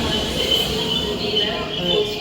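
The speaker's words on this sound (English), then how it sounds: "Arriving in now is the 1417 ScotRail service from Larkhall to" A ScotRail passenger train pulls into Glasgow Central station, a steady rumble of wheels and carriages with a faint high squeal from the rails, continuous and moderately close, with no clear talk.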